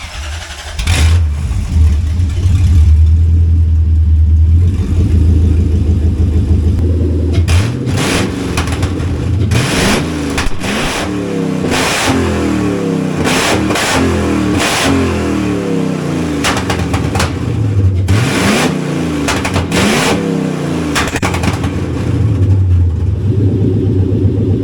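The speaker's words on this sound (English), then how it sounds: "what this thing sounds like with open headers" A loud Toyota Hilux pickup engine revs hard again and again through open headers, sharp bursts of roaring throttle over a deep rumbling idle.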